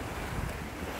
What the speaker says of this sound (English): Another splash. There's the waves.